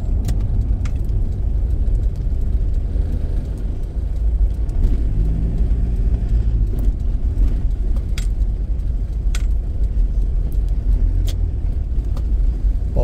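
Steady road traffic rumbles on and on as cars pass on a city street, with occasional sharper clicks and rattles over the constant low drone.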